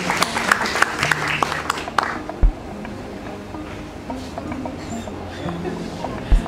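Scattered clapping from a seminar audience welcoming a speaker at a women's entrepreneurship event, brisk at first and then thinning into sparse claps and room noise.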